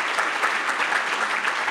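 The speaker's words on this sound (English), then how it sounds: "I would like to give a huge round of applause and thank Dr." A luncheon audience at a summer research programs closing event applauding, steady dense clapping from many hands filling the room throughout.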